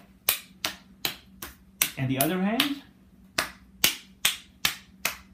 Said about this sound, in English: the next test is just to do the hand clapping